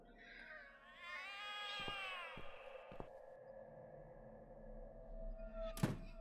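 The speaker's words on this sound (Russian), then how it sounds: "В итоге там кошки орут что-то" Cats yowling in The Cat Lady game: a rising, wavering caterwaul with stacked harmonics over the first three seconds, punctuated by a few dull thunks, then a steady tone and a sharp loud burst near the end.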